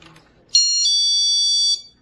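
A GE personal security window and door alarm set to alarm mode gives one loud, sustained high-pitched electronic tone of just over a second, steady and unbroken, then cuts off. It comes after a short quiet stretch with faint handling noise.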